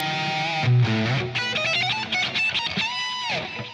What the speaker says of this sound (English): Let's get some low gain tones on then.